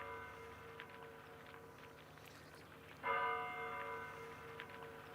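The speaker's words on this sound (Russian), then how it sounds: "Интересно, колокол бьет." A monastery church bell tolls on Valaam, one strong ringing strike with a long, shimmering decay over faint outdoor ambience, heard at a moderate distance.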